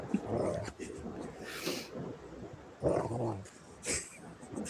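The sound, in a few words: excited dog whining and growling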